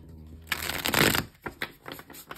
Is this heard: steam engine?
no